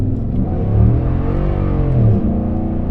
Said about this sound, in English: That was during wheel spin.